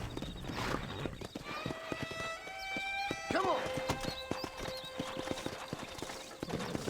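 In the Red Dead Redemption video game, a horse's hooves clop in a steady rhythm and the horse gives a clear whinny partway through. Someone talks over it in Turkish.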